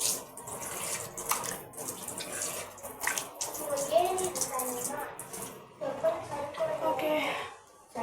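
Tap water splashes and runs into a sink while a face is washed, uneven splashing bursts with a brief pause near the end, and a voice talks faintly in the background.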